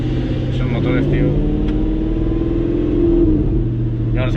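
An Audi R8 engine drones steadily nearby, its pitch climbing and falling with a few revs and brief sharp bursts, while people talk over it.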